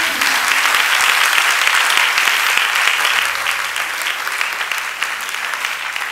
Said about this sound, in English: Let's give God a big hand clap for her.